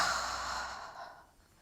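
A slow, soft exhale during a full-body yoga flexibility stretch, a long breathy sigh up close that gradually fades over about a second and a half, heard alone without talk.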